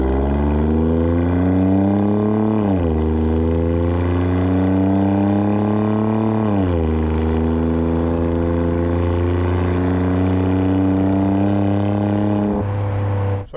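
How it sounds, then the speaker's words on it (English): An Alfa Romeo Stelvio Quadrifoglio engine drones loudly and deeply with a rumbling exhaust, valves open, rising in pitch twice as it revs and shifts, then holding a low idle-like growl. "You just want to hear the engine, hear the exhaust, and enjoy the car."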